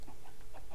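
A chicken from the video game Minecraft gives a few short, soft clucks spaced through a brief moment over a steady low in-game background.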